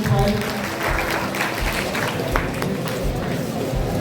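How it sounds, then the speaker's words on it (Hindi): Students clap together in a loud, dense round of applause with voices and chatter mixed in. "और एक बार खुशी के लिए जोरदार तालियां बजाओ स्टूडेंट्स।"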